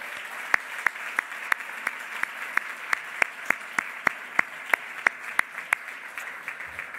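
A closing-ceremony audience at Les Roches Marbella claps, a thin scattered applause with sharp individual hand claps standing out in a steady rhythm against quiet room tone.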